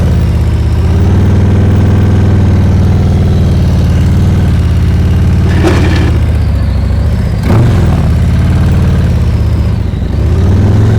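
Motorcycle engine held at steady throttle during slow-speed practice riding, a loud, even low hum that holds throughout, with brief rustling or wind noise around six and seven-and-a-half seconds.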